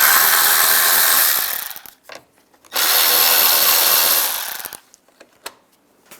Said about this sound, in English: There's two screws on top, the same T20 socket.